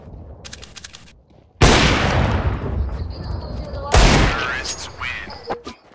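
Gunfire in the video game CS:GO comes as two loud, sharp bursts, each with a long, rumbling decay, over a quieter background of in-game sounds.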